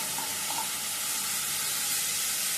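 Onions frying in oil for a fish curry give a dense, continuous close sizzle and hiss, steady and unbroken as masala goes into the pan, with no voices.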